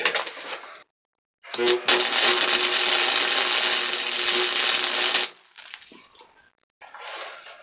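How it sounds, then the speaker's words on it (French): Metal welding while making a tuner for air rifles, a loud continuous crackling buzz lasting a few seconds, bracketed by short quieter bursts and pauses, close by with no talk. "Je vais continuer de souder."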